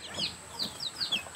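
Chickens clucking close by in a backyard, a run of short rising calls at an uneven pace, with quiet background noise and no talking.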